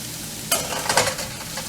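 Sausage drops into a hot pan of sautéing peppers with a sudden loud sizzle, followed by crackling frying and a few stirring scrapes, close and steady.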